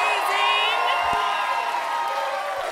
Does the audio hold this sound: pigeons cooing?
no